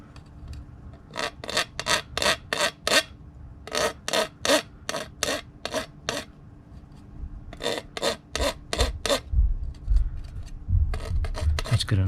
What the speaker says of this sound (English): I'm going to file these down a little bit, get some of those burrs off.